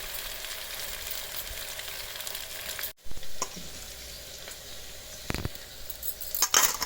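Ginger garlic paste fries in hot oil, a constant bright sizzle broken by a short gap, then metal spoon clinks and scrapes against the pan as it is stirred, with no speech.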